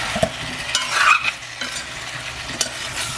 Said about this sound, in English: We are frying.